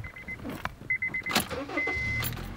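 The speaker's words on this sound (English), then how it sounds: "Of course it starts up, it's a Honda." A Honda Fit's 1.5 liter engine cranks in one short burst and settles into a low, smooth idle, after a few dashboard chimes and soft cabin clicks.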